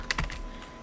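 A few quick, close keystrokes clack on a computer keyboard while a build command is typed for compiling C++ code, with a short pause between taps and no talking.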